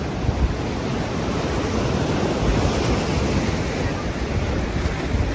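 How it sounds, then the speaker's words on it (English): Large ocean waves breaking on a beach near tide pools, a constant broad roar of surf with heavy wind buffeting the microphone throughout. "Look at how big those waves are, man."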